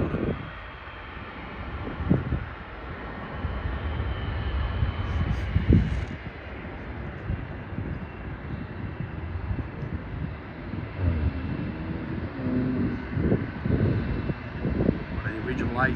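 A Capital Airlines jet airliner at Sydney airport gives a steady, broad engine roar that swells and fades, heard from a distance with some wind buffeting the microphone.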